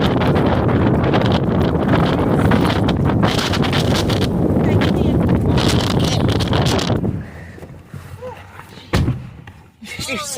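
Strong gusty wind ahead of a tornado roars across the microphone in heavy buffeting bursts, easing toward the end as a few thuds and voices come through.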